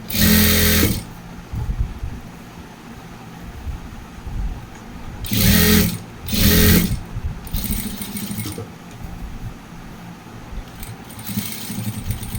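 A sewing machine stitches a school uniform, running in several short loud bursts separated by quieter stretches of handling noise.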